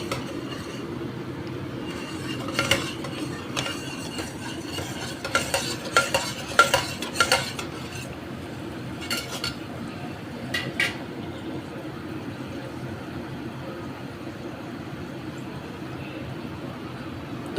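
Yogurt being stirred into mutton in a handi pot for korma: a low bubbling simmer with bursts of spoon scraping and clinks against the pot in the middle, quieter toward the end.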